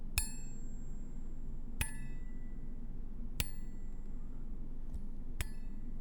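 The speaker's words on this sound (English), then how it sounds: "What if I flick the fork tines?" A metal fork's tines are flicked four times at uneven intervals, each a sharp close ping with a bright bell-like ring that decays over about a second, over a low steady room hum.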